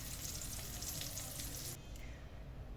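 Oil sizzles and crackles loudly in a pan as anchovies fry close up, the sizzle dropping off abruptly near the end.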